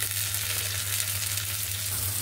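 Chopped onion and green chilies fry in a pan for an egg curry, a steady, dense sizzle that holds evenly throughout with no talk.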